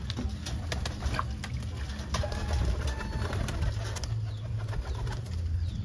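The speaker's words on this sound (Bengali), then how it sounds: "এইখানে আমার কবুতর আছে মোট 4টা" Several pet pigeons kept at home coo steadily in low, rolling, overlapping calls, close by, with a faint wing flutter and small background noises and no talking.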